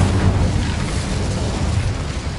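A fire-spell blast cast in Hogwarts Legacy, a loud, dense roaring burst of sustained flame-like noise that holds steady for a couple of seconds with no voices over it.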